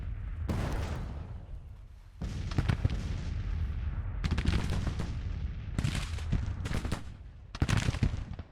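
Volleys of Civil War-era gunfire and cannon from the video game Grand Tactician: The Civil War, several separate thunderous bursts of rolling musketry and booms with short gaps between, loud and continuous.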